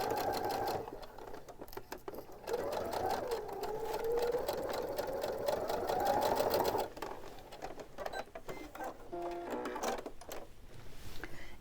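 A sewing machine stitches a fabric hot pad handle, its needle chattering rapidly and steadily up close, with a motor whine rising in pitch mid-run, then a pause and another stretch of stitching.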